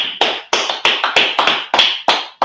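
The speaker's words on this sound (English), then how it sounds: "Clap it up." A small audience claps at the close of a class segment during a scripture discussion session: about nine sharp, separate bursts of clapping in an uneven rhythm, close and fairly loud, with no talking.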